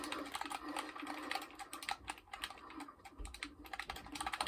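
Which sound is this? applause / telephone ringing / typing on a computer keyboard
typing on a computer keyboard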